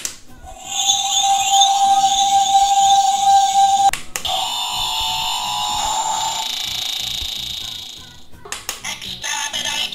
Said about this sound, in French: C'est un Dalek. Un réveil Dalek. Et quand il sonne le matin, ça fait...